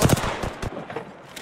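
Rapid automatic gunfire from a weapon in the video game Apex Legends rattles in a loud, close burst of shots that then trails into softer echoing noise.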